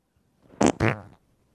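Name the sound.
mouth imitation of a wet fart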